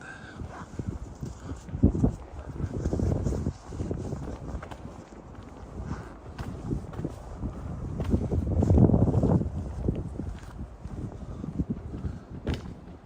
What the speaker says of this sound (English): It's a pretty cool wind.